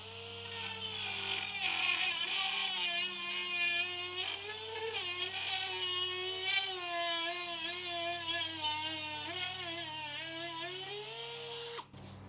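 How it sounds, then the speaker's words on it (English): A neighbour's lawn mower runs nearby with a steady, whining engine drone that wavers slightly in pitch for about twelve seconds before stopping. "It's my neighbors over there mowing."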